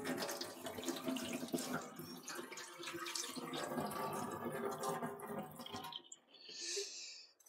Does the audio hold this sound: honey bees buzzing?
no